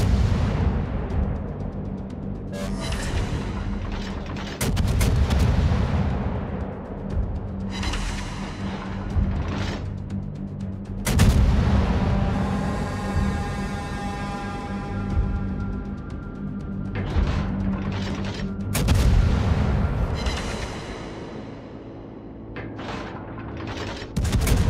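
Ship artillery fires in a naval warfare video game, heavy booming salvos recurring every few seconds with rumbling mechanical noise and ringing tails in between.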